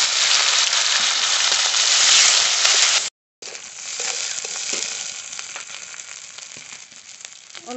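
Spices for egg curry, with chopped onion, dried chili and ground cumin, sizzle and fry loudly in a hot pan, a steady hiss that cuts out briefly, then resumes softer with occasional stirring clicks.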